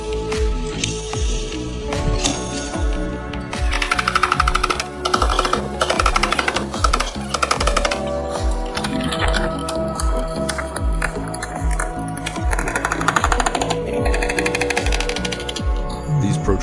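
On a crash-damaged 2,000 km Bentley Continental GT body panel, creases are tapped out with a rapid, steady series of sharp metallic hammer taps, close and fairly loud, continuing throughout.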